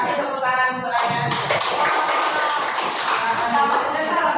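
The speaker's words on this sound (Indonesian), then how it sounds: "Kasih tepuk tangan" Students in a classroom clap for a classmate's reading, a moderate burst of clapping mixed with shuffling and tapping as voices chatter underneath.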